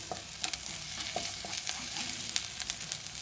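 Spices with crushed ginger and garlic sizzle in hot oil while being stirred, a steady close frying hiss broken by soft scraping clicks of the spoon, no talking.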